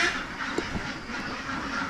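Ducks quack a few times at a duck farm raised for duck eggs, close and clear over a soft background rustle.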